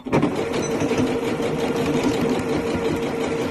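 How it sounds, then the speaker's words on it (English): A Janome sewing machine stitches fabric from top to bottom, running in a steady, loud, close whirring chatter throughout with no pause. "This time though, we're going to sew all of it from top to bottom."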